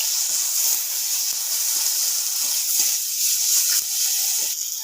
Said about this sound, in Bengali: ভালো করে ভেজে নেবো মশলার সঙ্গে।